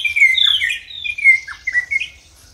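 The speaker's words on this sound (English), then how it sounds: "Waking up to the sight of birds, and there are so many birds in here." Many wild birds in the African bush squawk and chirp in overlapping, close calls, a busy chorus of shrill, varied cries with no talking.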